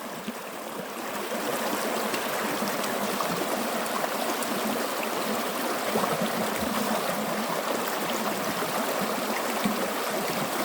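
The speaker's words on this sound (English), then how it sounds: "the faster flowing water is where you need to be filling up from" Fast-flowing stream water runs steadily and fairly close by as a container is filled from it, a continuous broadband rush and gurgle that holds even from about one second onward with no talk.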